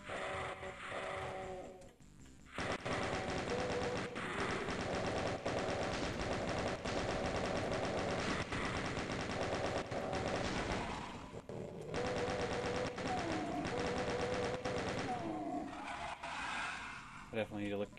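Gunshots in Doom, dense rapid firing and explosive blasts filling most of the stretch almost without pause, with a brief lull early on and someone talking over the noise.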